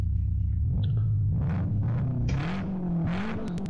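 A 1969 Ferrari Dino 246 GT engine drones steadily in the Live for Speed racing game, a loud continuous low rumble with pitch rising and falling as it revs, no talking.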